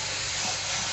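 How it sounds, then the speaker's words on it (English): Running water pours steadily over walnuts being rinsed in a colander after draining their brine, a constant, broadband hiss with no pauses, moderately loud and close, no voices. "let's give the walnuts a quick rinse"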